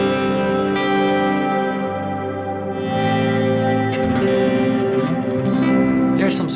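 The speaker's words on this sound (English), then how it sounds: "the lo-fi takes things even further with maximum modulation and the musical low fidelity, or like grit" Guitar played through a lo-fi reverb pedal with maximum modulation and gritty low fidelity, giving sustained wavering chords with a dark, overdriven wash of reverb, loud and without any talk.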